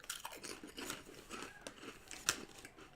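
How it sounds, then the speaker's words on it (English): Crisps eaten close to the microphone, producing steady crunching and chewing with crinkly, brittle bites throughout and one sharper crunch near the end. "So you get to hear me crunch and crunch and crunch."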